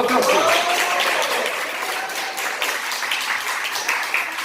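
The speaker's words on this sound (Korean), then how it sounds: "박수." Listeners in a lecture hall break into applause after an audience member's answer, a dense clatter of many hands clapping that stays fairly loud throughout.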